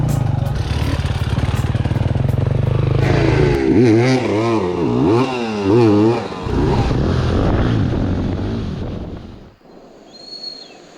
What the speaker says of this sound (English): 18 dirt bikes are about to go up the valley ahead of me.